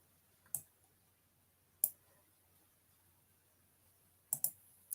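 A few sparse, crisp computer keyboard keystrokes, isolated single clicks spaced over several seconds with a quick double tap near the end, close and quiet against silence.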